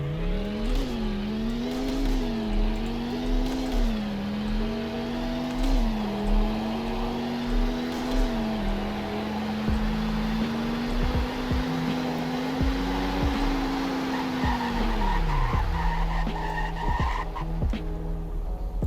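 Car from the Roblox game Greenville running a speed test, its engine tone climbing and shifting through gears for a long sustained run, loud and close, then cutting out near the end with tire noise and no speech.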